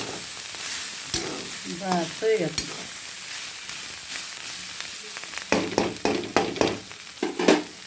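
Bitter gourd (karela) frying in a pan for a masala karela, with a spatula scraping and stirring through steady sizzling; the clattering strokes grow louder and more frequent toward the end, and a voice speaks briefly.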